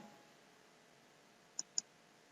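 Two sharp computer mouse clicks come in quick succession near the end, close and crisp, while a website is edited in a page builder. Before them there is only faint room hiss.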